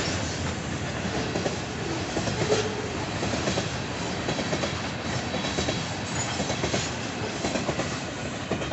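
A BNSF freight train led by locomotives 512 and 556 rolls steadily past northbound, close and loud, with continuous rumbling and clickety-clack of wheels on the rails, no talking.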